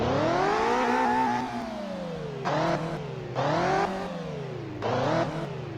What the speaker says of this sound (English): And now to test out the engine, let's give it a good rev here.